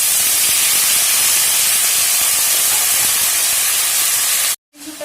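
Pumpkin stalk pieces hit a pan of fried potato, raising a loud, steady sizzling hiss that holds evenly and then cuts off abruptly near the end.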